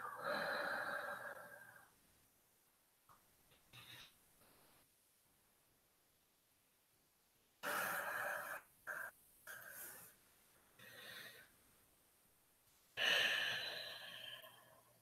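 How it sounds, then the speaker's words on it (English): Slow, soft breathing in and out during a guided meditation, three quiet breath phases with long near-silent gaps between them, faint and close against a low hiss. "Inhale. Exhale."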